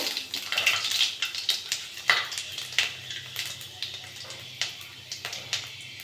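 Panch phoron spices dropped into hot mustard oil in a pan, giving a string of sharp clinks and light crackles with scraping over a low steady frying hiss, close and moderately loud.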